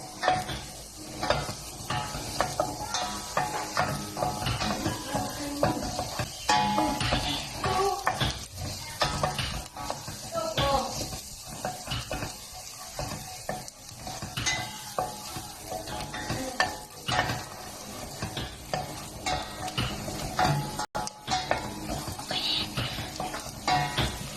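Onion and garlic sautéing in a caldero or kawali, a continuous crackling sizzle broken by frequent scraping and clinking of a utensil stirring against the pan, close and busy throughout.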